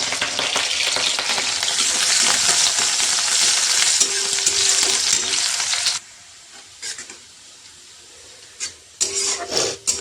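Onions fry in oil on a hot tawa with a loud, continuous sizzle and stirring for about six seconds, then the sound drops away to quiet with a few scattered knocks.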